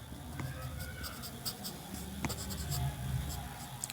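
Pen scratching on paper while a maths teacher writes out a polynomial solution by hand, a steady near scratching with small taps and strokes under quiet room noise.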